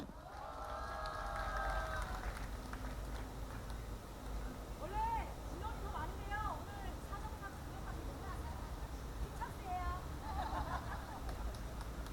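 A crowd at a union rally for call center workers cheers and claps, with scattered whoops and shouts rising over a steady murmur, loud bursts around the middle and end, and people talking throughout.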